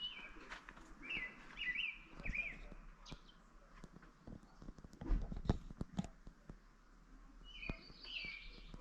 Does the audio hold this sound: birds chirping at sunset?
yes